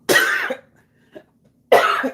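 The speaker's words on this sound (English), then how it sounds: "I have to cough." Two loud, harsh coughs close by, separated by a short pause with a faint throat sound between them.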